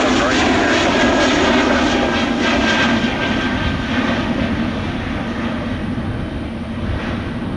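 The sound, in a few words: jet airliner taking off at Orlando International Airport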